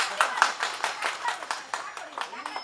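Rhythmic hand clapping at a Congress political rally, a run of regular claps under someone speaking.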